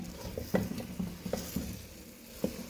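Saag of mixed greens with taramira, cooked and stirred in a pan: soft scraping stir strokes at irregular intervals over a faint low sizzle, close and fairly quiet, no talking.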